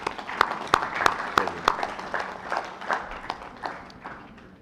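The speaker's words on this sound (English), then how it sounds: "give him a round of applause" Audience applause at a Pacific Islands legislative general assembly, honoring a long-serving chairman from Chuuk: sharp, distinct hand claps in a steady rhythm that thin out and fade toward the end.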